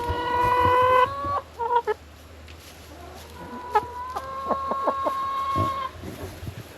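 Chickens cluck and squawk close by, a mix of drawn-out calls and short choppy clucks, with no talking.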